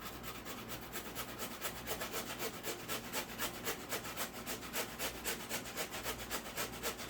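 Carrots grated by hand for a carrot cake, making a steady rhythmic rasping of quick back-and-forth strokes, close and fairly quiet, continuing without pause and with no one talking.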